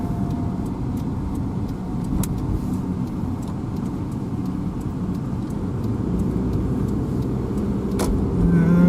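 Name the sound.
car being driven on the road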